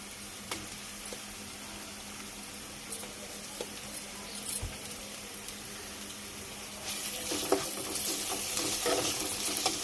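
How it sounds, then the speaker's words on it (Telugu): Ginger garlic paste sizzling in a hot pan while a spoon stirs it, a soft steady fry with scraping taps, growing louder and busier toward the end. "అల్లం వెల్లుల్లి పేస్ట్ వేస్తున్నా."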